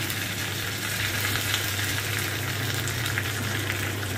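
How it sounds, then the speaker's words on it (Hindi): Steady, dense sizzling of mustard seeds frying in hot oil, continuous and close, with no voices. "ऑयल गरम किया है इसमें हम सरसों के दाने डालेंगे"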